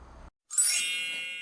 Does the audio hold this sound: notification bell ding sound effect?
yes